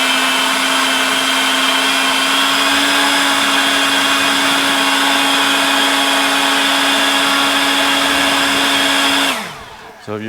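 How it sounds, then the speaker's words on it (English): An electric blower runs steadily at close range, drying a car after a rinseless wash, its loud, even whine holding for about nine seconds before cutting off abruptly. "I'm using the blower."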